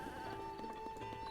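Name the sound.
ram bleating in video game Zelda Breath of the Wild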